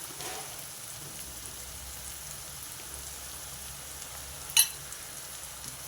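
Onions frying in a pan for a bitter gourd tamarind curry: a soft, steady sizzle like light rain, quiet and close, broken once by a single sharp click.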